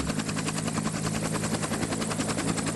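A helicopter's rotor beats in a fast, even pulse under a constant engine whine, loud and close throughout with no break.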